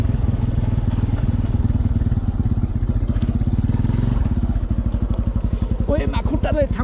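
A motorcycle engine pulses steadily as the bike climbs a slope toward a hilltop paragliding field, loud and close, with people talking over it throughout.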